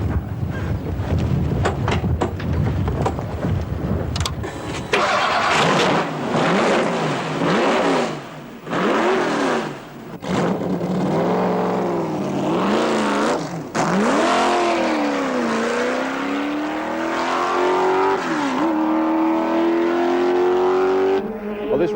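A 1975 Tasman Series racing car at Sandown, its engine loud and close, revving hard through the gears with rising pitch sweeps and heavy wind rush before settling into a sustained high drone.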